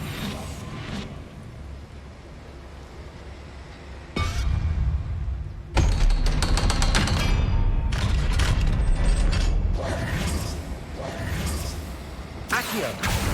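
Mechanical clunks, clicks and ratcheting bursts from a door mechanism in the Hogwarts Legacy video game, starting and stopping over a low rumbling game backdrop, loud and close with no speech.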